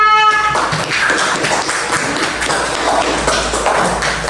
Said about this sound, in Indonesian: kita beri tepuk tangan buat kelompok 3